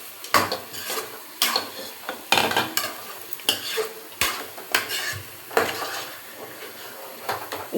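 Quail pieces washed with turmeric and salted, stirred and fried in a pan at home, with repeated scraping of a utensil against the pan over a soft sizzle, fairly quiet with no talk.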